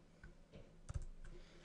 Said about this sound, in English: I just finished typing that